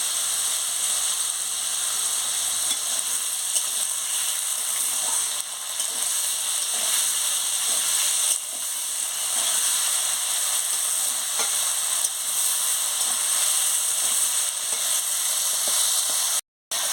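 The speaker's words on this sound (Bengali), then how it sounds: "নুন দিয়ে আলুটাকে ভালো করে ভেজে নিচ্ছি।" Potatoes fry with salt in a pan of oil for a ridge gourd and poppy seed dish, giving a constant close sizzling hiss with faint intermittent stirring clicks and no talking.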